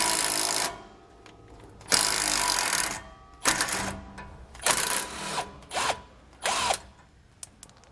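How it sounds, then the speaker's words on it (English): A power tool fitted with a 13mm socket spins off the U-bolt nuts of a factory steering stabilizer in a series of loud whirring bursts, some long and some short, with quiet pauses between them. "Use a 13mm socket to remove the nuts."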